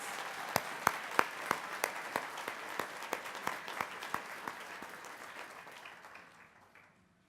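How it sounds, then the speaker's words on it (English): Applause for automotive graduates at a graduation ceremony, a room of steady clapping with sharp individual claps standing out, fading away over the final seconds. "we could get one more round of applause for all of our automotive graduates"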